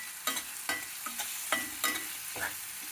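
Tomato and cumin frying in a pan, a soft continuous sizzle broken by about six quick scraping stirs of a spoon against the pan, fairly quiet and close.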